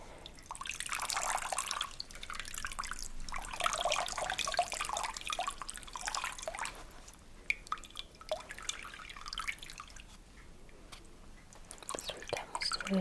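Water drips and trickles from a wrung-out cloth compress during a deep tissue massage, a close, soft run of splashy patters that thins out toward the end, with no voices.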